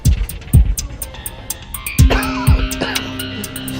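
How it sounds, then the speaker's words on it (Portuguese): A man's uncontrollable coughing fit: four harsh, loud cough bursts, two close together early on and two later, over a low hum with faint tones and clicks in the background. "Bernie acorda com um ataque de tosse incontrolável."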